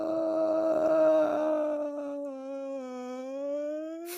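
A human voice imitates whale calls with a long, low, moaning tone that slowly bends and rises, sustained and close, with no talking over it.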